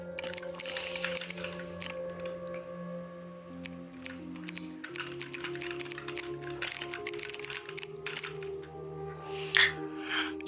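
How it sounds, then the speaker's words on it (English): Rapid clicks from typing on a computer keyboard run throughout in irregular bursts over steady background music, close and moderately loud, with no speech. "you can act like you're actually typing it"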